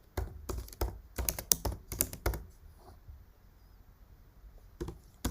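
Bursts of computer keyboard typing while entering Python code, quick clustered clicks in short runs separated by pauses, close and moderately loud with no talking.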